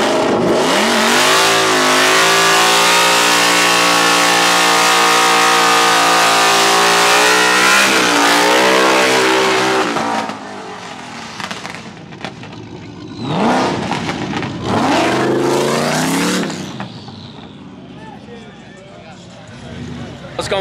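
A turbo Jeep and a Mustang street racing in Chicago, a loud sustained roar of engines accelerating hard and climbing through gears, then fading into shouting voices and crowd noise.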